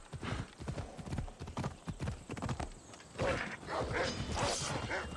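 Horse hooves clip-clop in a steady rhythm as a rider travels on horseback in Assassin's Creed Odyssey, close and fairly loud over a busy game soundscape, with a brief whinny-like tone near the end.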